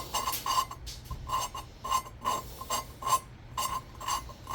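A hand lapping tool spins an EZGO golf cart engine valve back and forth against its seat, giving a steady series of close, gritty rasping strokes about twice a second, with no talk.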